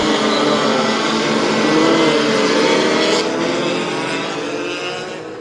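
Super scooters at a race start at Anglesey circuit roar away together in a dense, loud engine blare that holds and then slowly fades as the pack pulls off into the distance.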